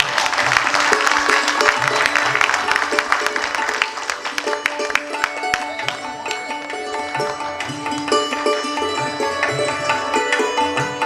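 Audience applause at a Konkan shahir award ceremony, a sustained wash of clapping from a crowd that carries on for the full stretch, loud and close, with some voices mixed in.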